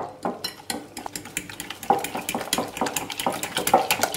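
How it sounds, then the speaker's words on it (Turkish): Omelette mixture with tomato, salt and chili flakes being stirred in a pan, quick repeated clinks and scrapes of a utensil against the pan over a faint sizzle, close and busy. "Malzemeleri karıştırıyorum."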